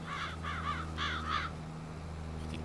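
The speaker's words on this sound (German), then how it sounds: "Die Krähen" Crows caw in Farming Simulator 22, roughly four harsh calls in quick succession, then falling quiet over a steady low machine hum that runs through the whole clip.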